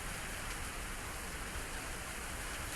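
Steady rain falls in the video game Ayakashi Akashi, heard beside a tea house overhang: a dense, continuous hiss of drops pattering on surfaces, even and unbroken throughout with no voices.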